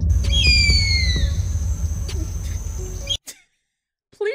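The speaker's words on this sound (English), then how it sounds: "Bald eagle." A bald eagle gives a string of high, thin, descending whistled cries over a low rumbling background before the sound abruptly cuts out, followed by a brief faint noise near the end.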